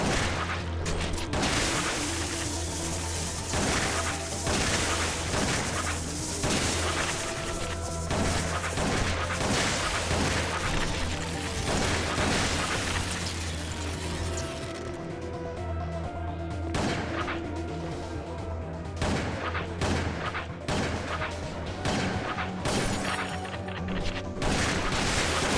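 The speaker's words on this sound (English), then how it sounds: "That's it, I'm using the shotgun." A shotgun fires repeatedly in the Wii game Resident Evil: The Umbrella Chronicles, loud booming blasts in rapid succession amid crashing impacts, creature noises and an underlying game soundtrack.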